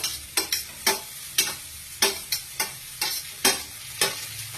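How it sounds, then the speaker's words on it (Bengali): Chopped onion and capsicum fry in a pan while a spatula scrapes and tosses them in a regular rhythm, about a dozen sharp strokes over the steady sizzle, close and loud, with no voices. "এটা একটু ভালোভাবে ভাজতে হবে, ভালোভাবে ভেজে দিতে হবে।"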